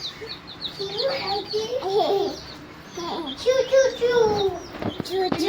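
Newly bought baby chicks peep in high, thin, repeated chirps at close range, mixed with a child's and adults' voices talking nearby.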